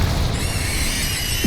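Explosive Bombarda and Confringo spells cast in Hogwarts Legacy, a dense, loud roar of magical blast noise filling the whole moment and ending in a low, heavy thump.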